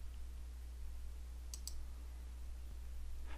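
A computer mouse clicks twice in quick succession while grip editing an alignment in Civil 3D, faint and close against a steady low electrical hum.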